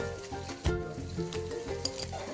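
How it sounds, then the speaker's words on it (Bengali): Ginger garlic paste and spices sizzling in butter in a wok, a steady crackling fry over background music, with a louder burst near the start. "একটু বাটার দিয়ে দিয়েছি, এর মধ্যে দিয়ে দিলাম আদা রসুনের পেস্ট"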